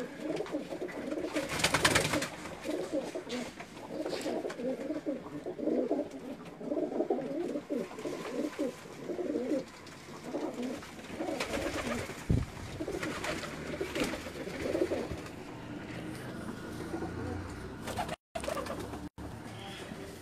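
Pigeons in a pigeon collection in Rawalpindi-Islamabad coo over steady bird chatter and ambient noise, a continuous low murmur of calls with occasional louder bursts throughout.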